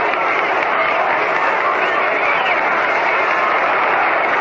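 Warm round of applause from the ballpark crowd for Yankees batter Tony Lazzeri at the 1937 World Series game against the Giants, a steady broad wash of clapping and crowd noise heard over an old radio broadcast.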